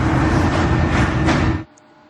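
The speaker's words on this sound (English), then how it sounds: "because as the train stops" A Lausanne M2 metro train in the Metrosimulator game rumbling loudly with a steady low drone, then cutting off abruptly as it comes to a stop at the platform, leaving a quiet hum.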